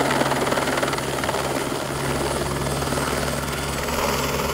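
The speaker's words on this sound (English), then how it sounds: "Chopper is touching down on our landing pad, which doubles as a croquet lawn." A helicopter touches down on a landing pad that doubles as a croquet lawn, its rotor and engine roaring loudly and steadily throughout, close by and dominating, with no talk.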